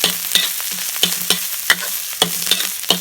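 Spice paste for carp larb stir-fried in a hot pan, a spatula scraping and tapping the pan in an irregular rhythm over a steady close sizzle, with no voices.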